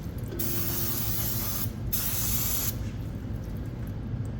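Brake cleaner hisses from an aerosol can onto a car's disc brake in close, steady sprays, with two short pauses between bursts and no talking.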